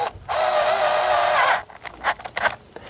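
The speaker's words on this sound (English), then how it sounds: "drill them in" A power drill drives self-tapping screws into a feeder mount, whining loudly and steadily for over a second before stopping, followed by a few short clicks and handling sounds.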